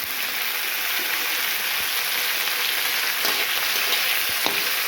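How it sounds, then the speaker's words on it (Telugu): Diamond-cut okra sizzles in hot spiced oil for a hotel-style masala sambar, a dense, steady frying hiss close by with faint stirring taps and no talk. "ఇప్పుడు బెండకాయలు ఫ్రై చేసుకోవాలి."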